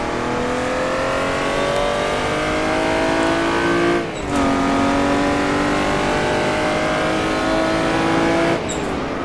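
Jaguar D-type race car at Goodwood, its engine note close and loud, holding a steady throttle tone that drops sharply under hard braking, settles near idle, then rises again with careful throttle before another quick cut.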